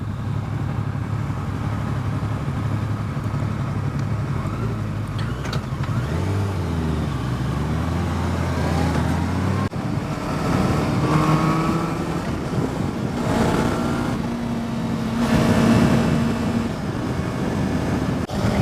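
A 2015 Yamaha R3 parallel-twin sport bike engine hums smoothly while riding, its pitch climbing and falling through gear changes under steady road and wind noise, with no one talking.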